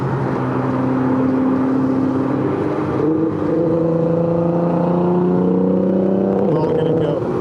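Nissan GT-R running E85 with an AX boost setup accelerates away on the road, its engine note climbing in rising harmonic sweeps that shift as it changes gear, steady and fairly loud under traffic rumble.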